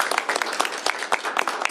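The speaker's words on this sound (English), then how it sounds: "give a round of applause to the representative for his hard work on this legislation" Clapping from a small group at a bill signing, a sharp, close patter of overlapping handclaps that carries on evenly for a couple of seconds.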